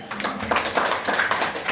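A classroom group clapping hands together, a dense, steady patter of many claps close by with no talk over it.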